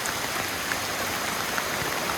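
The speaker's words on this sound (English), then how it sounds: "Look at this rain." Rain falls steadily at a campsite during a Jeep overlanding trip in Maine, a dense, even hiss of drops with faint scattered patters, moderately loud and alone for about two seconds.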